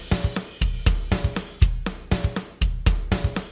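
Rock'n'roll drum pattern played on a double drum set at 120 BPM: steady, loud kick and snare hits with crashing cymbal wash, repeating evenly over a few bars with no voices.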